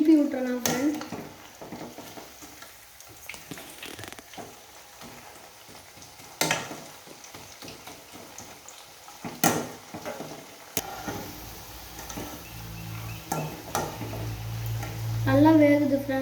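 Cauliflower pieces for cauliflower chilli frying in hot oil give a steady sizzle, broken by scattered clatters as they are turned in the pan. A voice is briefly heard near the start and again at the end.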